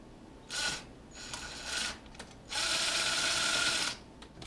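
A hand ratchet with a 15 mm socket, swivel and long extension clicks in three quick bursts, the last one longest, close by and fairly quiet, during front sway bar work on a fifth-generation Camaro ZL1.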